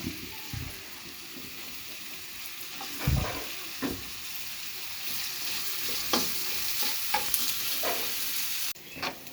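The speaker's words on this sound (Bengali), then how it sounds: "এবার আমি পেঁয়াজটা বেরেস্তা করে নিচ্ছি অন্য পাত্রে।" Sliced onions frying to a crisp beresta in a separate pan, a constant soft sizzle with occasional stirring scrapes and clinks, heard close and moderately quiet.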